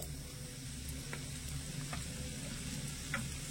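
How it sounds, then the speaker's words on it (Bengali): Boiled, mashed potato going into a pan of fried spices, a low, steady sizzle with a few faint spoon taps, quiet and close. "এবারে এই আলু সেদ্ধটা দিয়ে দিচ্ছি।"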